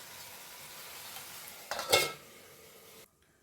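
Tomato egg curry gets a quick stir in a pan: one brief, close scrape and swish of a spoon amid a faint background hiss, then near silence.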